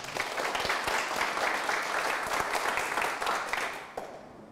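A church talk-concert audience claps together in a full, steady round of applause lasting several seconds to welcome a missionary elder, tapering slightly at the close.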